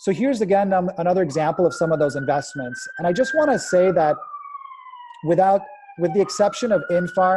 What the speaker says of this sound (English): Excuse the sirens calling from Brooklyn here.